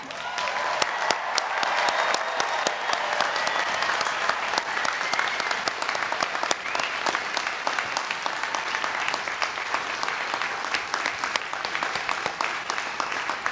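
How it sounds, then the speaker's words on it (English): Sustained crowd applause for graduating students at the Brown University 2016 commencement ceremony, a broad, even wash of many clapping hands continuing without a break from start to finish. "all students graduating today stand and be applauded"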